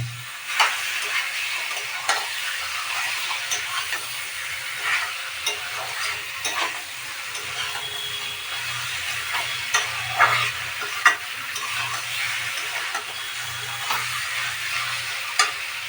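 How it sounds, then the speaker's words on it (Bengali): Meat frying and sizzling with fried onions in a pan, stirred steadily with scraping and clinking strokes over a continuous hiss for the whole stretch, close and fairly loud with no talking. "মাংসগুলো দিয়ে একটু ভালো করে নেড়ে চেড়ে ভেজে দিতে হবে।"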